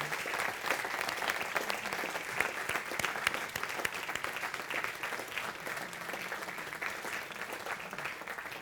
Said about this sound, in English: So huge applause to Mariana.